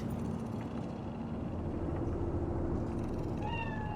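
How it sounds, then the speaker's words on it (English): Cat meowing in the Cyberpunk 2077 video game, set in Night City; soft meows sit within a dense, steady game ambience of hum and background noise, with a few thin rising tones near the end. "That cat?"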